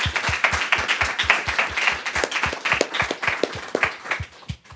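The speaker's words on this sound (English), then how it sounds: "I want to propose another round of applause for all seven." Audience applause after seven humanities research presentations, a dense steady patter of many hands clapping in a room, fairly close and loud, tapering off at the end with no talk.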